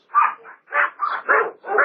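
A dog barks repeatedly near a house door at night, four or five short, loud barks in quick succession with brief gaps between them.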